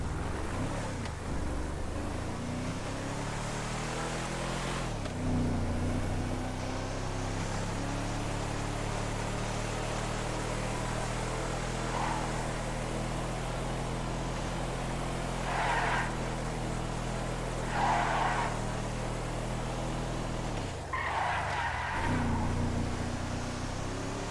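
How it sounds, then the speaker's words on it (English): A D-Class Yosemite 1500 driven in a video game, its engine droning steadily with rising revs and gear shifts, plus a few brief skid-like hisses, close and continuous. "Okay, this is the D-Class Yosemite 1500. Let's just try this thing out."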